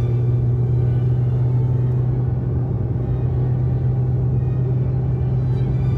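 Nissan Z engine droning steadily at 130 km/h on a highway, a constant low rumble with road noise that holds at an even, loud level throughout, with no speech.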